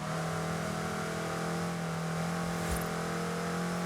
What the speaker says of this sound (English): I like the intake noise. Intake noise is nice.